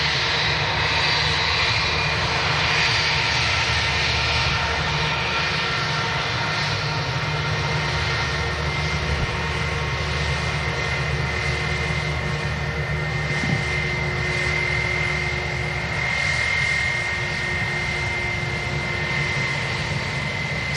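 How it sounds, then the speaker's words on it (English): Engines of a 20-year-old Airbus A320 on a fast taxi at Manchester Airport give a loud, steady jet roar and whine that holds unbroken throughout, close and continuous. "Looks like we're on a bit of a fast taxi. 20-year-old A320."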